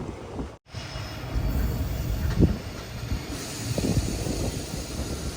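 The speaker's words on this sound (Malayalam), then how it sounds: "വിജയപുരയിൽ നിന്നും 783 കിലോമീറ്റർ യാത്ര ചെയ്ത് ഞങ്ങളിതാ ഇപ്പോൾ മംഗളൂരു ജംഗ്ഷൻ റെയിൽവേ സ്റ്റേഷനിലേക്ക് എത്തിക്കൊണ്ടിരിക്കുകയാണ്" An express train rolls into Mangaluru Junction station on the Konkan route, heard from on board as a steady loud rumble of wheels on rails with hiss and faint squeals.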